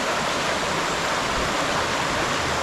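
A rural creek in a Philippine province runs strong after heavy rain and flooding. The water makes a dense, constant rushing roar that stays close and loud throughout, with no voices.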